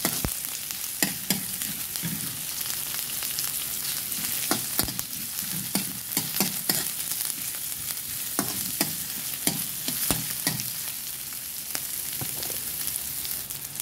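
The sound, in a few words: onion frying in a pan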